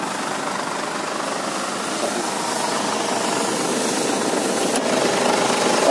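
A 2009 Ford Everest 2.5-litre turbo diesel idles with the hood open, a steady, fairly loud clattering rumble heard up close that stays even and continuous, with no talk over it.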